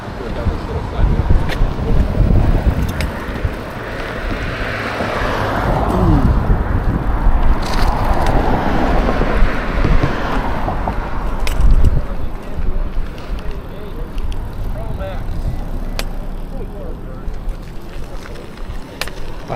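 A fast electric bike with the original motors rides down a narrow side path, with heavy wind buffeting and a rolling rumble that stay loud and continuous throughout.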